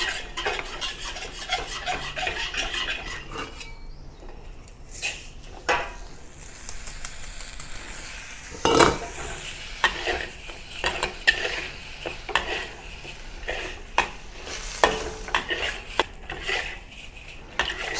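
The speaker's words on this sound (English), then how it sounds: "Stir fry the rice for about a minute or until the rice starts to become dry and slightly sticky." Rice stir-fried in shallot oil in a pan gives a close scraping and rustling of a spatula against the pan, with irregular sharp clinks over a soft underlying sizzle.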